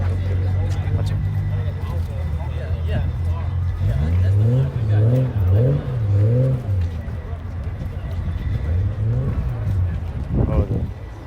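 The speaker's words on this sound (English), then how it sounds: "Lamborghini truck. Watch it." A Lamborghini truck engine revs with rising and falling pitch over a steady low rumble, fairly close, while people talk over it.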